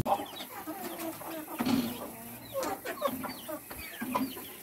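Semi free-range naked-neck broiler chickens at slaughter size cluck in scattered, overlapping calls around a farm pen, moderately close and steady with no talking.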